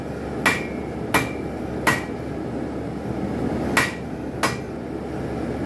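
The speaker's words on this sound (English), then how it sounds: "Make sure you take that hammer straight down." Forging a spike knife on an anvil: five sharp hammer blows ring out with a metallic ping, spaced unevenly with a longer pause mid-sequence, close and loud against steady background noise.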